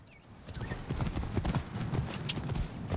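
Horse hooves clip-clop in the video game Assassin's Creed Origins, a steady trotting rhythm of distinct hoof strikes that grows louder after a quiet start, with no talk.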